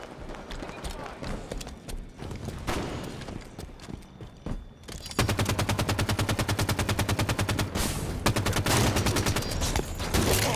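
Halo 5 gameplay: rapid automatic gunfire bursts that turn into a sustained loud rattling stream of shots over the second half, with scattered game effects earlier.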